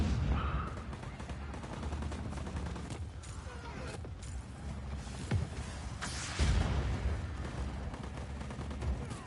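Gunfire crackles through Just Cause 4 gameplay, a steady spread of distant shots and rattling bursts under the game's ambient noise, with a few sharper reports standing out.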